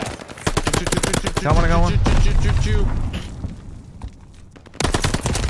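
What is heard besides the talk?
MP40 submachine gun fire in the video game Call of Duty: Vanguard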